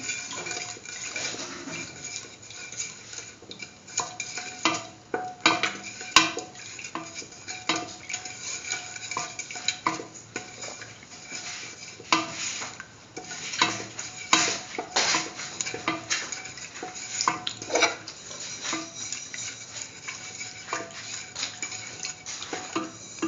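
Spoon stirring sugar into milk in a metal pot, steady scraping and clinking of utensil against the pan with occasional sharper ticks, continuous and close with no voices.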